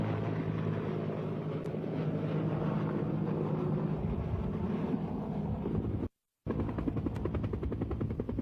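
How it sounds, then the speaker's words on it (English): Steady droning roar of a U.S. Air Force C-130 cargo plane's propeller engines heard from aboard in flight, loud and continuous with a brief dropout, no talk. "Prime Minister Siaga got his bird's-eye view aboard a U.S. Air Force C-130 cargo plane."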